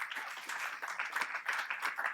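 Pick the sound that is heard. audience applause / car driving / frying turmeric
audience applause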